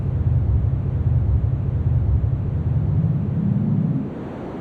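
A 4ms SMR synthesizer module at its default state after booting drones with a steady, noisy low rumble that resembles wind or surf, holding evenly before dropping in level near the end.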